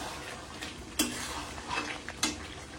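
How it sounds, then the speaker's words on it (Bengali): Chicken being stirred and braised in a pan at home, with a steady sizzle under two sharp metal scrapes and light clinks of a spoon against the pan. "এখন চিকেন কষানো চলছে"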